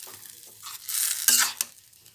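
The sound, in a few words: jaggery pickle mixture boiling and being stirred in pan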